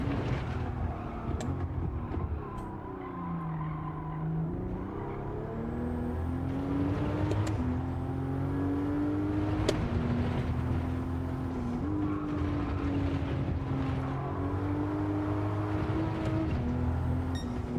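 A race car engine in Gran Turismo 7 drones steadily as the driver downshifts from fourth to third for a sequence of tricky consecutive corners. The pitch steps and slides as the revs change, with occasional brief clicks over the hum.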